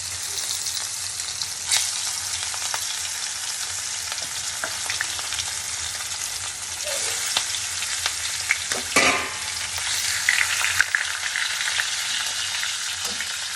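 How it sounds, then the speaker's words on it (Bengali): Fish frying in hot oil, a continuous loud crackling sizzle with occasional sharper spits and stirring sounds as pieces go into the pan. "গরম হয়ে গেছে, এবার মাছগুলোকে একটা করে ছাড়ি।"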